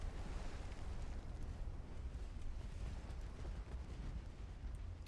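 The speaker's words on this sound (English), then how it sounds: "Love to see torpedo detonations, I ain't gonna lie." Deep, continuous rumbling roar from torpedo detonations in a naval battle video game, a dense low booming wash that stays loud and steady throughout with no voices.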